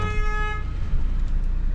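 A car horn sounds in Istanbul traffic with one steady, loud honk of about half a second. A low rumble of traffic continues behind it.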